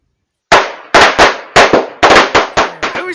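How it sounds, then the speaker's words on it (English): A rapid string of about nine sharp firecracker bangs going off outdoors, loud and close, after a moment of silence, each crack decaying quickly. "It was just some firecrackers"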